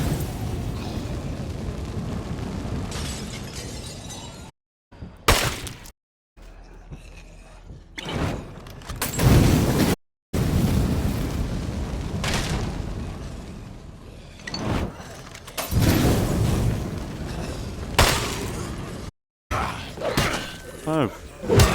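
A thrown explosive blows up in State of Decay 2, giving loud booming blasts with shattering debris among chaotic game noise, broken by abrupt cuts, while someone talks over it.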